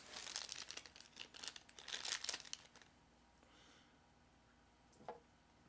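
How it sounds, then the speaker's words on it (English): A GoPro battery is pulled from its plastic packaging, giving close, busy crinkling and crackling for a couple of seconds, then quieter faint rustles and one last sharp crinkle. "Take this out of the plastic."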